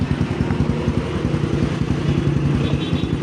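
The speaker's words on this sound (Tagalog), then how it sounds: "maandar yung motor ni boss mga katropa" A motorcycle engine idles steadily close by, a loud continuous chugging rumble with a faint mechanical clatter and no noticeable revving.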